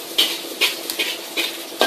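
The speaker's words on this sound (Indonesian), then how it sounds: "Lalu masukkan bawang merah dan bawang putih, tumis hingga mengeluarkan aroma harum" Shallots and garlic are stirred in oil with a little sesame oil in a pan: several rhythmic scraping, clinking strokes of a utensil against the pan over a faint sizzle, close and alone.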